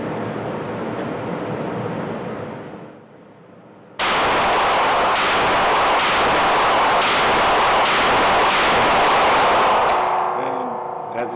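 Sig Sauer XMacro Comp pistol fired one-handed at an outdoor range, a loud string of evenly spaced sharp shots over roughly six seconds with a brief lull before them.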